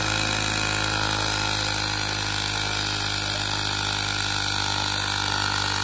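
A Ryobi P737 18V cordless air inflator pump runs continuously, a loud, steady mechanical drone with a constant hum that never varies and no speech over it.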